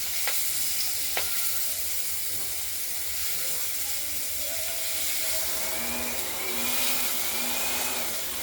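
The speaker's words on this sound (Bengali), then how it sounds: "মাছগুলো আগে ভেজে নিই" Ail fish frying in a pan give a continuous, moderately quiet sizzle and crackle that stays even throughout, with no voices over it.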